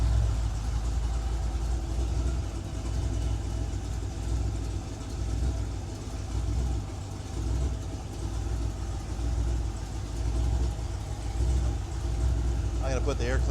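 A home-built Ford 302ci V8 with a new camshaft and light flex plate idles steadily with a slight lumpy rhythm, a constant low rumble close by, while someone talks over it.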